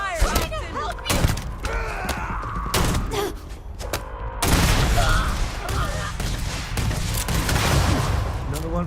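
EM rifle gunfire in a Starfield firefight, sharp repeated shots and thuds cutting through shouted dialogue and groans, loud and close throughout.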